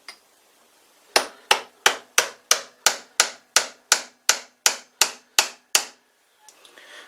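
A run of thirteen sharp metallic hammer strikes driving a reamer out of a collet, in a steady rhythm, each ringing briefly, loud and close, with quiet before and after.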